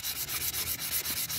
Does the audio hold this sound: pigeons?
no